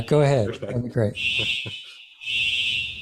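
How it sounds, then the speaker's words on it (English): A building fire alarm sounds as a loud, steady high-pitched tone that enters partway through and holds, with brief gaps, while people talk over it in a meeting. "We're going through a fire alarm at this point."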